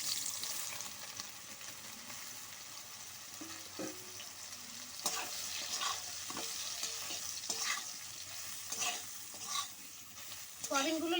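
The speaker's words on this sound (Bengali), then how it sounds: "ওই তেলের মধ্যেই এবার আমি সোয়াবিনটা ভেজে নেব" Soybean chunks fry in leftover oil in a wok with a constant sizzle, broken by repeated scraping stirs of a spatula that come in irregular bursts.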